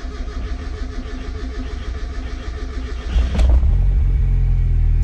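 A Mazda Miata fitted with RX8 fuel injectors cranks and catches after a few seconds of background noise, then settles into a loud, steady low idle close by.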